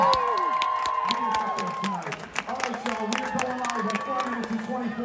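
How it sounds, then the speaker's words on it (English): A studio audience in the balconies at a dance competition show cheers and applauds, with clapping and shouts filling the room under a host's amplified voice. "we'll keep all that applause and energy going"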